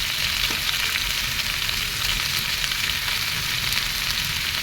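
Potatoes and pumpkin greens fry together in a pan, producing a continuous loud sizzle with soft crackling. It holds steady throughout, close and with no voices.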